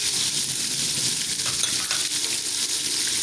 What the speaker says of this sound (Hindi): वो भी आपने इसके साथ चिकन के साथ ही फ्राई कर लेने हैं